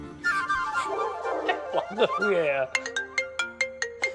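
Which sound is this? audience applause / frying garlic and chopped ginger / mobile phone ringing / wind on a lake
mobile phone ringing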